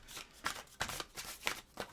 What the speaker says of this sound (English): I'm just going to shuffle this.